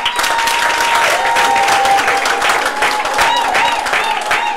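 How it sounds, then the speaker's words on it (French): A crowd at a civil wedding ceremony applauds steadily and loudly throughout, dense hand clapping close by, with a little voice murmur mixed in. "simplement madame Mélion Vanessa, une fois de plus, sous vos applaudissements"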